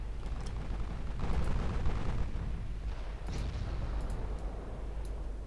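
Battleship artillery in Ultimate Admiral Dreadnoughts booms as a low, rumbling wall of distant naval gunfire, with a few sharper cracks breaking through a steady roar.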